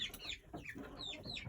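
Chickens cluck and squawk in quick, agitated bursts as they are handled and moved, close and fairly loud across the whole stretch, with no talk.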